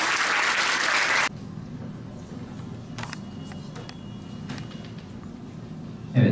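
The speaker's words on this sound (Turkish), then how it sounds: "Alkışlıyoruz." A loud burst of applause from a middle school quiz competition final audience opens the moment and stops abruptly after about a second, leaving a quiet room hum before another short loud burst at the very end.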